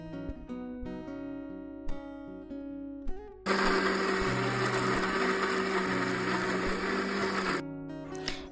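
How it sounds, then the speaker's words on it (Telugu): A mixer grinder whirs loudly and steadily as it grinds cut amla and vegetable pieces with a little water into a fine paste, running for about four seconds between quieter kitchen sounds. "కట్ చేసిన పీసెస్ అన్నీ మిక్సీ జార్లో యాడ్ చేసుకొని కొంచెం వాటర్ కలుపుకొని ఫైన్ పేస్ట్ లాగా"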